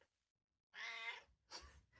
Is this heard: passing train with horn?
no